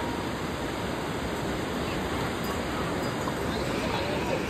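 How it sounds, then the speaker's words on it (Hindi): The Yamuna river rushes steadily in the mountains near Yamunotri, a loud, continuous broadband roar of flowing water with no pauses. "यमुना नदी बह रही है।"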